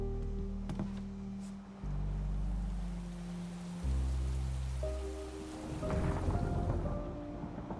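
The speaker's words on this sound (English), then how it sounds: "Choose from afternoon or daytime rain weather." Daytime rain weather in the video game Mafia: The Old Country, a steady hiss of rainfall with low droning hums and shifting tones beneath it, fairly quiet and continuous with no voices.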